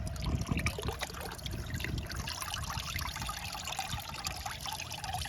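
Running water rinsing a still-wet Floetrol dye pattern off a disc, a steady trickling, splashing flow that stays fairly close and continuous throughout, with no voices.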